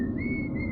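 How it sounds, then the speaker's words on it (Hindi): A man whistles a single sustained, steady tone at night by a roadside after stopping his motorbike, the whistle clear and close over a low background hum, with no talking. "रात के सन्नाटे में उसकी सीटी की आवाज गूंज रही थी"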